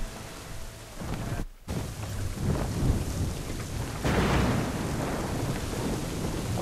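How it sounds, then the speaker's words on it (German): A thunderstorm in the video game Assassin's Creed 3 sends heavy, steady rain hissing under deep rolling thunder. A brief drop-out comes early, then the downpour swells louder, with no voices. "Ich sage, es ist Zeit, dass wir Schutz vor dem Sturm suchen"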